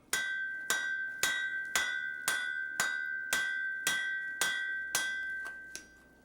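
Red-hot steel forged into a knife blade for a traditional Korean ornamental knife, struck by a hammer in about ten evenly spaced, bright ringing blows, each with a short metallic ring, loud and close with no talk.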